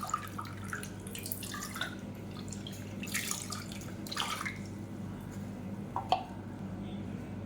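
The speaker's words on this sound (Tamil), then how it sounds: "அந்த மிக்சியை அலசிட்டு அதை அப்படியே சேர்த்துக்கலாம்" Water poured from a rinsed mixer-grinder jar into a pot while cooking a horse gram weight-loss breakfast, a soft splashing trickle with scattered drips over a quiet kitchen background.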